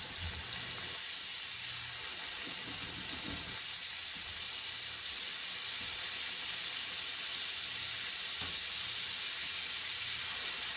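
Pre-cooked shrimp join chicken on a hot hibachi grill, producing a steady, broad sizzling hiss throughout with a few soft low knocks and scrapes from turning the food.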